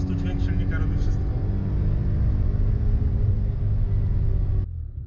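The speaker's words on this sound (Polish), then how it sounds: "po prostu dźwięk silnika robi wszystko" A BMW M3 E30 engine rumbles loud and close with a steady low drone that holds until it cuts off abruptly near the end, leaving a quieter background.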